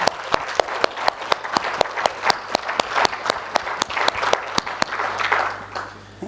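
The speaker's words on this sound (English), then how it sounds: "please join me to give them a big applause" Audience applause for panelists at a summit: a modest crowd clapping with distinct, sharp individual claps in a loose rhythm that gradually thins out toward the end.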